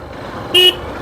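A safari jeep on an off-road trail near Vagamon gives one short, loud honk of its horn, rising sharply above a low engine and road rumble.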